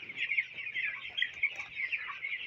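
A dense flock of broiler chickens on a poultry farm keeps up a close, continuous chorus of overlapping clucks and chirps.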